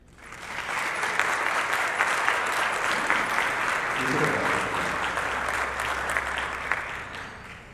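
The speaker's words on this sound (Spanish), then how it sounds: "Un aplauso." An audience at a civic-space forum in Nuevo León, Mexico, welcomes a World Justice Project speaker with applause that swells quickly and holds steady, dense and full, with a low hum emerging near the end.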